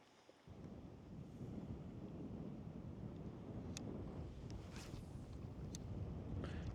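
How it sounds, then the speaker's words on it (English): Wind gusting at a riverside beach, a loud, steady broadband roar buffeting the microphone for several seconds with no voices. "It is a little bit windy over here"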